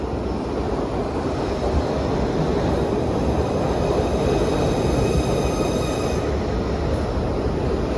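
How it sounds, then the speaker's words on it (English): Loud, steady rumble of an express train arriving at a station in Philadelphia, rolling along the rails, with a faint high metallic whine over the top and no voices. "Here comes my train."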